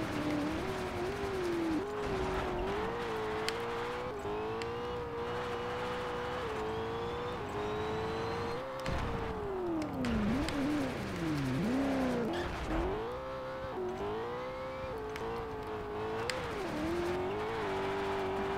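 A truck in the PSP racing game Colin McRae: DiRT 2 drives on without a break, its engine droning and rising and falling in pitch as it revs and shifts, with tyre scrub and skids, loud and close throughout.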